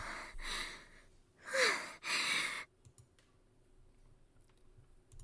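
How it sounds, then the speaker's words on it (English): Breathing noises in the visual novel game Ever17: a few soft, close breaths and sighs rise and fall in quick succession, then fade into a quiet stretch with faint clicks. "Breathing noises."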